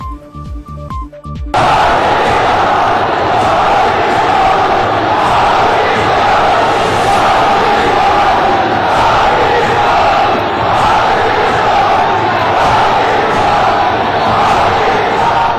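A massive crowd at Narendra Modi's roadshow in Varanasi roars continuously, loud and dense, with shouts and cheers blending into a sustained wash after a brief cut-in of other sound at the start.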